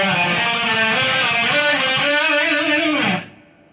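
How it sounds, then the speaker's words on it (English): Distorted electric guitar plays a fast tremolo-picked sliding run from a solo, a continuous buzzing stream of rapid notes gliding in pitch, loud and alone before cutting off abruptly near the end. "we're just going to be sliding around, and it's nothing too crazy. You're just going to be tremolo picking."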